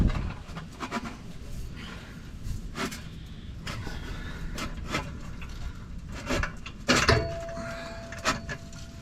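A 3.5-inch DPF-back exhaust pipe is pushed into its seal during installation, giving irregular close scraping and rubbing bursts with a few sharper knocks, and no talking.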